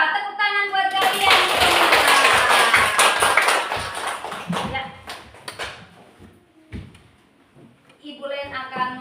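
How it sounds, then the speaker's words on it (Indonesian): Students in an elementary school classroom clap for their groups in a loud burst of applause that fades over several seconds, with scattered claps and voices continuing into the end. "Tepuk tangan buat kalian semua"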